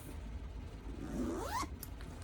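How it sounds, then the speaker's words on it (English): One smooth, rising zip sounds as a zipper closes on a large Christmas-themed knitting project bag with gnomes, quiet and close over a low background hum. "Got a zipper."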